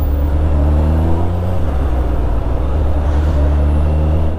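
Riding a motorbike through city traffic in Yekaterinburg, a loud steady engine drone and rumble with shifting pitch and a dense wind-and-road roar close up, no talking.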